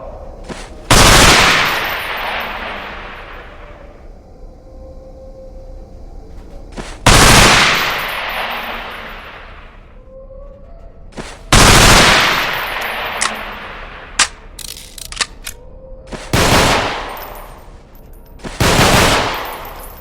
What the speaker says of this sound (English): Let's get to the submachine guns now. Pick up that MP5.